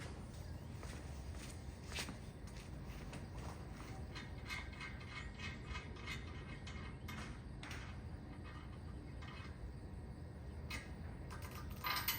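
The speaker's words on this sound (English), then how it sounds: "Now I gotta take this bolt off, because this bolt is just for shipping." Mechanical clicking and ratcheting while a shipping bolt is backed out of a Rigd swing-out tire carrier on a Ram Power Wagon, with repeated sharp ticks over steady low noise and no talking.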